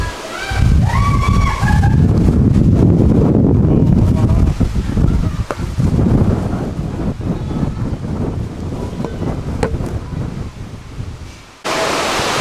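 Strong typhoon gusts in Okinawa roar and buffet the microphone loudly and continuously, with heavy rushing wind noise that briefly drops out near the end before returning.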